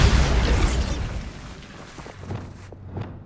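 A Bombarda blasting spell in Hogwarts Legacy bursts at the start with a booming explosion, then decays into rumbling debris and a few scattered pops.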